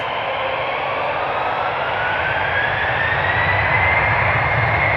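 A Delta Airbus A330-300 jet at Amsterdam Schiphol's Polderbaan, a loud, steady engine roar with a slowly rising whine that holds for the whole stretch, with no voices.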